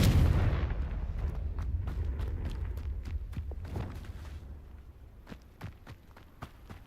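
In Hogwarts Legacy, a Confringo fire spell goes off with a strong booming blast up front, then a run of sharp crackling pops and snaps that fade gradually. No one speaks.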